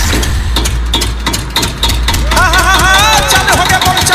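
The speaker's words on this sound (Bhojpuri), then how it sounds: "अभी हम तेल रह के जनरेटर चालू करते हैं" A diesel generator engine starts and chugs steadily with a low rumble and regular rhythmic pulses. Partway through, a wavering tonal sound joins over the engine, which stays loud and close throughout.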